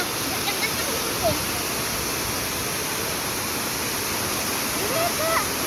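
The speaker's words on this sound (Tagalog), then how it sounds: "ang sarap sa pakiramdam na marinig mo yung agos ng tubig" Tago Falls pours in an unbroken, dense roar of rushing water that fills the whole span evenly, with a few faint bird chirps barely poking through.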